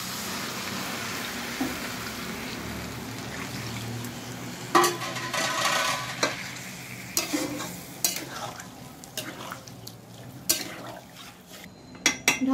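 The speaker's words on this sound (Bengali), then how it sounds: "দেখুন আমি জল দিয়ে দিচ্ছি এতে।" Water poured into a pan of spiced vegetables sets off sizzling and frying, with stirring, scraping and clinks of a utensil against the pan in irregular bursts close by.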